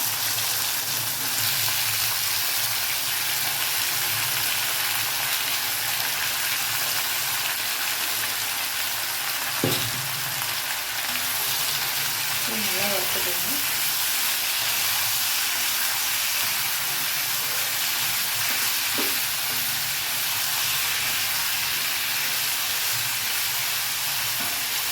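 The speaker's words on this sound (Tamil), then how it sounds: "உருளைக்கிழங்கு தோலோடு கட் பண்ணி வச்சுருக்கேன் ஸ்லைஸாக போட்டுக்கிறேன்" Skin-on potato slices fry in hot oil with a loud, continuous sizzle and hiss that barely changes, broken by a few utensil taps and one short spoken word.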